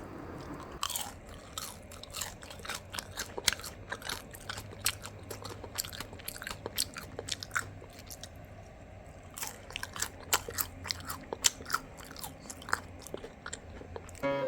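Repeated crisp, crunchy bites and chewing of crispy fried eggplant, close to the mic, continuing steadily with no talking.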